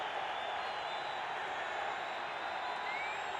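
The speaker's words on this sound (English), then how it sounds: "Listen to that crowd!" An arena crowd cheers in the video game Fantasian Neo Dimension, a steady wash of distant cheering and applause, even in level and moderately faint, with no clear voices standing out.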